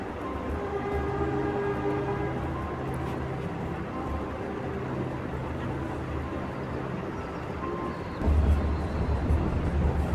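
Indian train running in winter as it nears Nanpara Junction, a continuous rolling rumble with sustained tonal horn or whistle-like notes through the first half and a louder low thud shift near the end.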